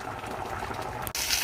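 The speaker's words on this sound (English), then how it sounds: "This is what it sounds like. The water is evaporating." Water boiling off in a pot of Dominican rice with longaniza on high heat: dense, quiet bubbling and crackling, with a brief drop and a brighter sizzling surge at the end.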